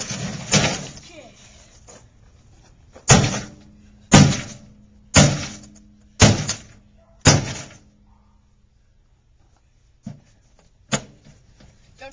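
Microwave oven being smashed: five heavy, sharp impacts in a steady rhythm, each with a decaying crash, then two more spaced hits after a pause, close and loud, with a little talk at the start.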